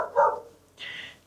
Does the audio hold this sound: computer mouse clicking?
no